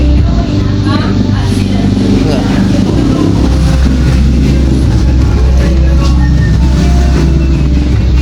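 Motorcycle ride with a steady, loud engine and road rumble running throughout, constant and close, with people talking over it.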